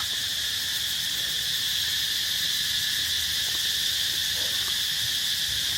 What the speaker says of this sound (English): you can hear the sounds of the insects